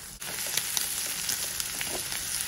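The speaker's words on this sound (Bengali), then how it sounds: "পেঁয়াজটা একদম লাল করে ভাজবো না, হালকা ভাজা হয়ে যাচ্ছে" Onion fries lightly with salt in a pan for shrimp pasta, giving a continuous close sizzle with a few soft stirring clicks and no talk.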